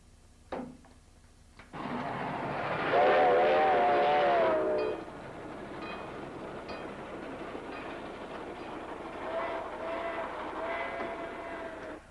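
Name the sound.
recorded train whistles and train noise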